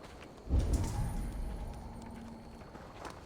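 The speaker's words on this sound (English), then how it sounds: "Now to deliver Magni his horse. Where is his horse" Hooves clip-clop in a brisk rhythm as a horse moves along in the video game Assassin's Creed Valhalla, with a soft low rumble beneath and no talking.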